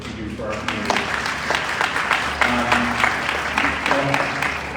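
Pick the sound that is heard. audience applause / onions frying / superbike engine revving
audience applause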